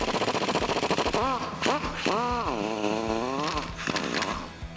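An impact wrench with an 18mm socket rattles off the lower shock bolt on a 2018 Jeep Wrangler JL during a suspension lift install, loud rapid hammering bursts, then a drawn-out whining tone with a voice talking briefly nearby.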